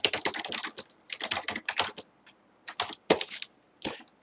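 Close, crisp typing on a computer keyboard while writing a note, steady bursts of rapid keystrokes broken by a few short pauses and an occasional harder tap.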